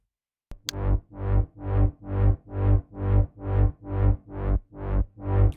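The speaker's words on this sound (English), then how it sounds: "We are moving the bass deeper using the ambient reverb." A deep bass line pulses in steady, evenly spaced notes, each swelling and decaying into a washy ambient reverb tail, alone without other instruments.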